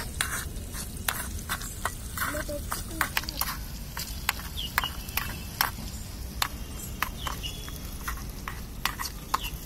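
A small spoon scrapes and clicks rhythmically as it stirs a chilli powder mixture in a miniature cooking pot, with a soft simmering sizzle. A person talks over the sound.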